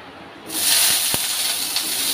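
Onion tipped into a hot pan with fried coconut bursts into a loud, sudden hissing sizzle that starts abruptly and carries on steadily, close by.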